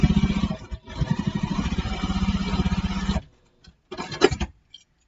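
A domestic sewing machine stitches a backpack seam in a steady run of rapid needle pulses for about three seconds, then stops, followed by a few short, quieter mechanical clicks and handling sounds.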